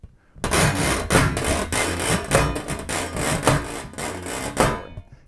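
A washboard scraped and gouged hard in rhythmic strokes, loud and close, a steady run of rasping bursts with brief gaps between them.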